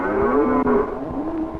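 Cattle in pasture near Texarkana, one loud, close, drawn-out moo lasting about a second and a half, steady and resonant with a slight drop in pitch midway, heard alone without voices.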